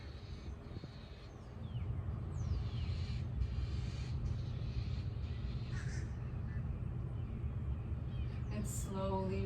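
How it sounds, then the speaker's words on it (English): Birds call outside in the morning, harsh caw-like cries drifting in at a distance over a steady wash of outdoor background noise. "those birds are active this morning."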